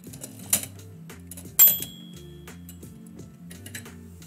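Typewriter keys strike in an irregular run over sustained tonal music, with two sharper, louder clacks standing out near the start and middle, in a live poetry-writing setting.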